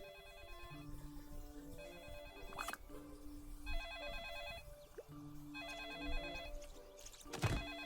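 Telephone ringing in the Desperate Housewives: The Game video game, three faint repeated electronic ring bursts in a regular pattern over a low ambient background with small clicks.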